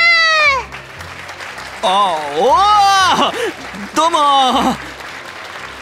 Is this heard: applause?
yes